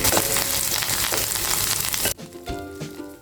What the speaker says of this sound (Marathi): थोडीशी हिरवी मिरची एक छोटी हिरवी मिरची आणि थोडी कोथिंबीर घालायची आणि तेलामध्ये चांगली परतून घ्यायची